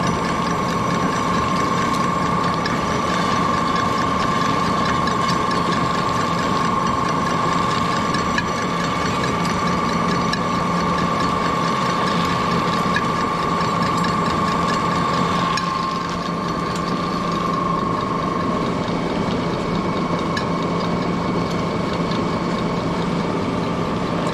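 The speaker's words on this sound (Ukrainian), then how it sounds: "Йде в нагрузку трохи двигун. Трошки важкувато цю суміш йому терти" A pellet-making machine's motor drones steadily under heavy load grinding a feed mixture for piglets, with a grinding, ratcheting mechanical churn and a constant hum.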